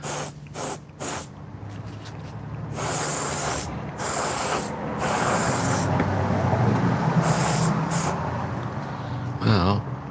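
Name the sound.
airbrush spraying paint on leather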